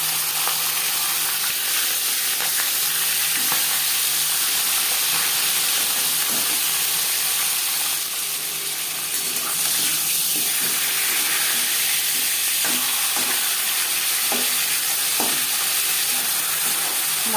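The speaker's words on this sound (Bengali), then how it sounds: "মাছের মাথা একটা সাইড ভাজা হয়ে গেলে অপর সাইডটা উল্টে দেবো।" Katla fish head frying in hot refined oil gives a steady, close sizzle with crackling spatters throughout, heard alone without talk.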